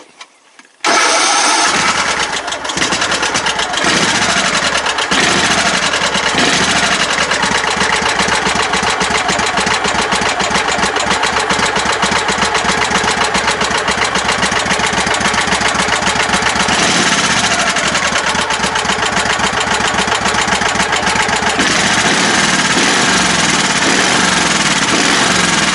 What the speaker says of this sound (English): Not used to it having such a low idle.